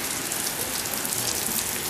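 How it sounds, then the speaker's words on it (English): Steady rain falls and patters on surfaces, a dense, even hiss that holds without a break throughout, with no talking. "It's raining now."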